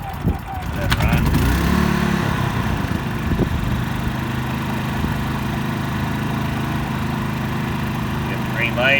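A Generac IQ3500 portable generator runs close by with a loud, steady engine drone after a brief rattling start, holding an even pitch throughout.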